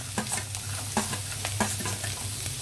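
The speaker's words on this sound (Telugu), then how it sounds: "ఇప్పుడు కూరగాయ ముక్కలన్నీ వేసేద్దాం" Ginger, garlic and chopped vegetables such as beans, carrots and green chillies fry in a pan for millet khichdi, giving a loud, steady sizzle broken by repeated scraping stirs.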